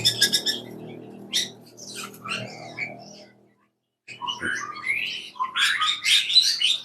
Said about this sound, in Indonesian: Setiap pagi ini kita langsung dengar suara burung.